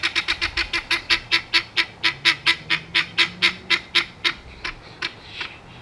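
A guinea fowl squawks close by in a fast, steady string of loud, harsh, evenly spaced cries that slow and thin out near the end.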